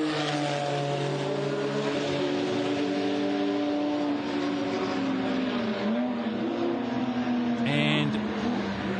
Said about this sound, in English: Stu Taylor in the Auto Link car coming in.